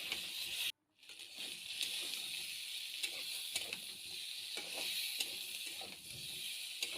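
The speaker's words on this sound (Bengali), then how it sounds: "কড়াইতে আমি সরষের তেলে নুন হলুদ দিয়ে খুব ভালো করে ভেজে নেব কচুগুলো" Boiled, peeled taro pieces fry in mustard oil with salt and turmeric in a wok, giving a quiet, steady sizzle with light stirring clicks and a brief gap early on.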